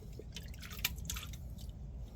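Minwax wood stain splashes onto a hand: a quiet, wet spatter with one sharper splat near the middle and a few softer drips after it.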